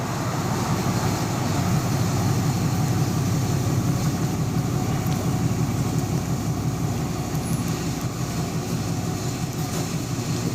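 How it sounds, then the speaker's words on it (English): A car engine idles steadily outdoors in warm Florida weather, a continuous low rumble holding at a constant level throughout with no talking. "Why somebody needs to run their engine"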